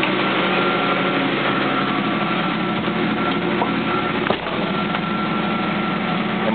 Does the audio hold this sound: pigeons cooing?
no